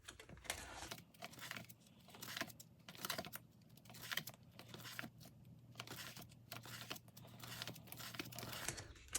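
Plastic photocard binder pages of Jungkook cards flipped in quick succession, giving a steady run of crisp rustles, crinkles and soft slaps close by, with no talking.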